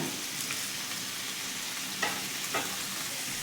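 Boiled vegetables and chicken fry in a pan with a steady, hissing sizzle, quiet and continuous, broken by a couple of faint utensil scrapes.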